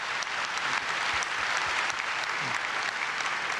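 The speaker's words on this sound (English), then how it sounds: "Please give them a big round of applause." Audience at a museum conference plenary session on Asian art collections gives panelists a sustained round of applause, a dense, even wash of many hands clapping at once, steady and moderately loud from start to finish.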